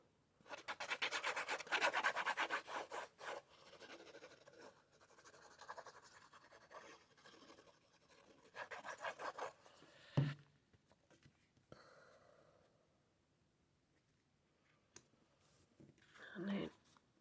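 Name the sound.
folding card paper into a tent fold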